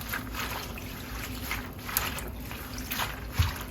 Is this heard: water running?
yes